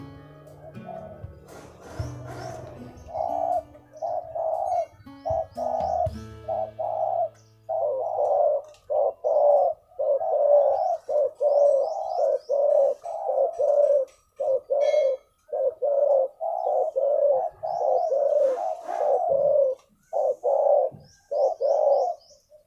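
Repeated rhythmic cooing from a spotted dove, close and clear, in steady phrases with short breaks, plus faint chirps in the background.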